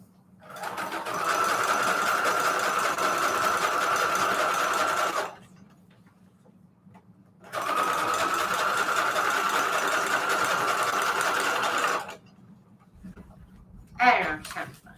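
A sewing machine stitches junk journal pages in two long, steady bursts of a few seconds each, separated by pauses, with a faint steady hum underneath and a brief clatter at the end.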